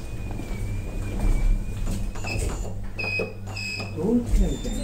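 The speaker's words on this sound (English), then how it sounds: "Doors closing." Lift doors at the Riverside Park Hotel in Enniscorthy slide shut with a soft rumble and thud, alongside an electronic tone and beeping chimes; a person speaks over it.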